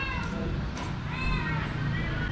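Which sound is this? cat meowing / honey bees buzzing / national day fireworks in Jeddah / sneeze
cat meowing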